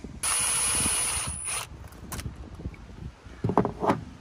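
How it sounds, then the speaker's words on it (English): A socket wrench ratchet loosening a hose clamp during a cold air intake install on a 2019+ Ram 1500, a rapid close clicking run followed by scattered clunks and handling noises. "remove this hose clamp here, which is either a flathead screwdriver, or you can use a 5/16 socket or an 8mm socket"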